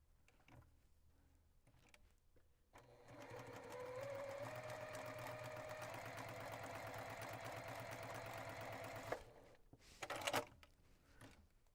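A sewing machine stitches along the edge of a quilt block, running in one steady, fairly quiet mechanical whir for several seconds, with brief handling sounds before and after.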